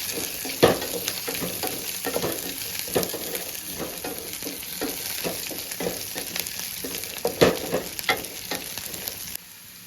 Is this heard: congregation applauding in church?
no